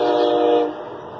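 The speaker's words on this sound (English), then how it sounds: "My train, Amtrak." An Amtrak train sounds its horn, a loud sustained chord that holds steady and then fades as the train passes, with no talking.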